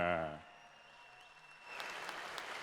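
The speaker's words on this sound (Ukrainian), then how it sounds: "Друзі, гучніше підтримайте оплесками." A crowd at a mixed martial arts fight event breaks into clapping after a short voice and a quiet pause, the applause rising moderately and continuing to the end.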